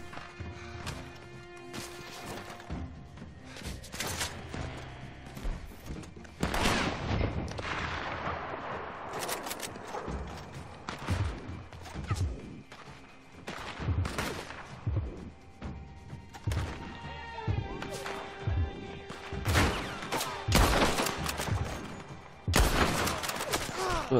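Gunfire from snipers in the online western game Red Dead Online: repeated sharp shots and cracking bursts of fusillade, loud and close, spread throughout amid other game noise.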